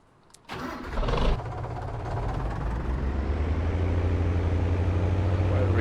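A tractor engine cranks and catches in Farming Simulator 19: a brief starter whir, then the motor fires and settles into a steady, loud, low idling rumble that continues alone.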